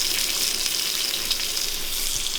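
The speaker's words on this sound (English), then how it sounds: "That sizzle, baby. It's all about that sizzle." Food sizzles steadily in a pan at an outdoor camp cookout during a 4x4 off-roading trip, a dense continuous hiss close by, with no pauses and no talk over it.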